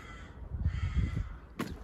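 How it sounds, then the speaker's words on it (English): Crows cawing among the trees of a Vienna cemetery near Mozart's grave, a couple of harsh nearby calls followed by a sharper, brighter caw at the end. "The crows are near Mozart."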